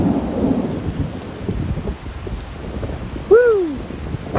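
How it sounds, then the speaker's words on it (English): Thunder rumbles low and steady through a Colorado thunderstorm, with rain falling around an RV. A short, loud rising-and-falling whistle-like cry cuts in near the end. "This lightning and thunderstorm."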